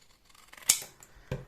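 Scissors snip through decorative paper while a flip tag is cut out for a craft project, one sharp close cut followed by a second shorter snip, with no one speaking.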